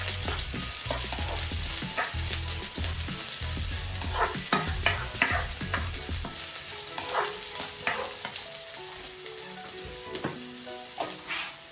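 White and red onions fry in a hot pan, giving a steady, dense sizzle broken by frequent scraping stirs of a utensil, close and fairly loud with no voices.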